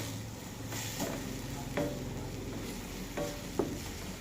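Tomatoes sautéing in a pan for fish sarciado, a soft steady sizzle with a few spoon scrapes and stirring knocks at intervals, fairly quiet and close, no voices.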